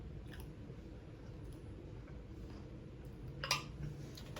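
Crunchy sugar cookie with bourbon and pumpkin pie spice being chewed close to the mic, a steady low mastication texture with one sharper crunch near the end, no talking.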